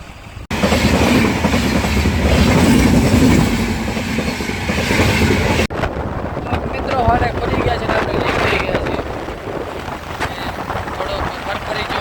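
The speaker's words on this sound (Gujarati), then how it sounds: "હવે ટ્રેન આવે છે" A train rolls past a closed railway crossing, its loud, close rumble and rhythmic clatter of wheels filling the scene steadily, with wind buffeting the microphone and faint voices underneath.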